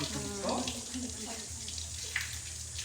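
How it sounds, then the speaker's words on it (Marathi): Water pours down from above at the Shree Keshavraj temple in Asud, Dapoli, giving a continuous rushing splash with faint voices underneath. "पूर्ण एकदम वर पासून पाणी येत आहे ते पाणी इथे येत"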